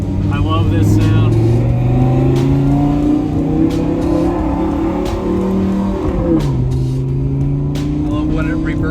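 High-revving engine of an Audi R8 or an NA Miata on the High Plains Raceway track, a loud sustained drone that climbs in pitch, dips sharply near the end and rises again, with people talking over it.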